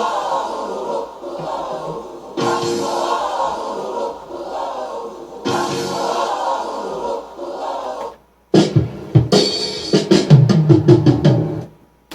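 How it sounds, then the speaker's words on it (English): A simple drum fill from the Cardiac Flatline kit in Maschine. It comes in as a quick burst of punchy hits after about eight seconds of a dense, sustained loop, then ends abruptly. "The drum fill also came out of the Cardiac Flatline kit as well"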